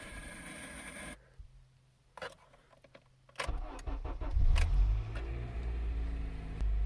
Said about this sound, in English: And then you could simply start the engine.